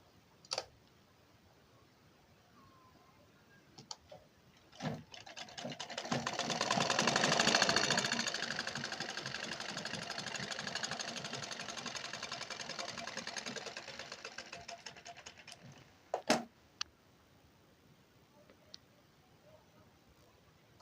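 A sewing machine stitches a blouse with two-thread stitching, its rapid needle clatter swelling in and running steadily for several seconds before winding down, framed by a few isolated clicks and knocks before and after.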